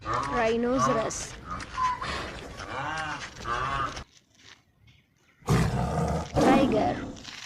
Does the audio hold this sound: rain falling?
no